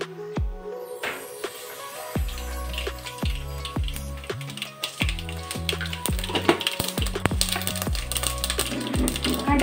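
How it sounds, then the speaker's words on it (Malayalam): Mustard seeds pop and crackle in hot sesame oil while a beetroot and dates pickle is being made, giving a dense run of sharp, close clicks over a steady sizzle with no talking. "അപ്പൊ കടുക് പൊട്ടി മൊത്തം നാശാക്കി വെച്ചിട്ടുണ്ട്."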